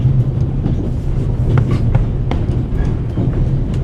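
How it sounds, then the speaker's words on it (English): Steady low rumble of a train on the Orient Express in the game The Raven, a continuous rolling drone with faint rattles throughout, no voices. "The noise on this train is driving me crazy."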